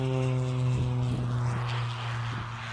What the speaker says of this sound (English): Don't mind the plane going by.